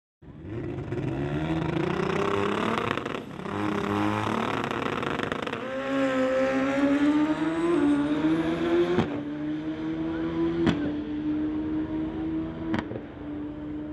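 A Pro Mod drag motorcycle does a burnout to heat its racing tire at a drag strip. The engine screams loud and close, holding high revs with a slowly climbing pitch, and is punctuated by a few sharp cracks near the end.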